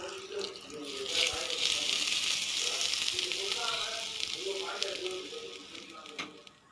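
Hot tempering of oil with asafoetida and dried red chilli poured over coriander chutney, giving a steady, moderately loud sizzle and hiss that runs throughout, fading slightly toward the end.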